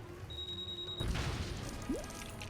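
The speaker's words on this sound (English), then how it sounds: "place a bat bomb at this container right here" A bat bomb set on a container in a LEGO video game goes off with a sudden crash after a thin tone, followed by clattering debris and a short rising swoosh.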